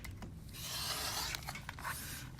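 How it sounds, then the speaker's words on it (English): Rotary or blade trimming of quilting fabric along an Add-a-Quarter ruler, a close, steady rasping scrape lasting about two seconds, with a few brief scuffs near the end. "now I'm gonna trim this off using my add a 1/4"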